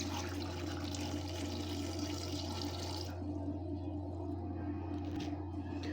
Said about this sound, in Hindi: 1 कप पानी डाल लेंगे।